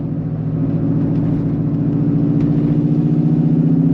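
A C5 Corvette fitted with long tube headers and a straight-piped exhaust rumbles at steady high RPM, a loud, continuous throaty drone held close by for the whole stretch with no pauses.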